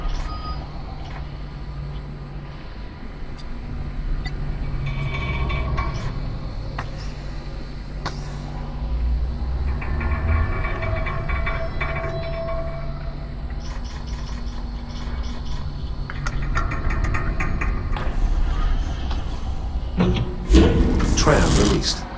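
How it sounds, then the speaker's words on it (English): In the video game Lone Echo 2, a tram is released from its mount in zero gravity, with mechanical clunks, beeps and whirring machinery under steady hum, closing with a louder clank near the end. "Tram released."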